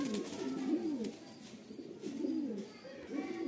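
A Rampuri pigeon coos nearby in soft, low, rolling phrases, three or four repeated calls over a faint room background.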